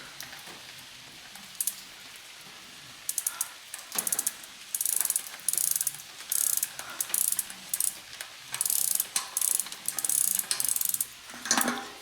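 A bike freewheel ratchets as it is loosened, giving crisp, close clicking bursts that come in short repeated runs separated by brief pauses, with no talking.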